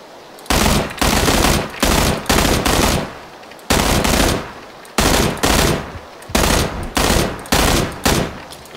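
Loud, close bursts of automatic gunfire in PUBG, a dozen or so rapid volleys with brief gaps between them and no talking over them.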